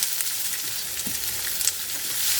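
Finely sliced onions sizzle in a hot pan, a steady close crackle of frying oil with a faint scrape of stirring partway through, no voices.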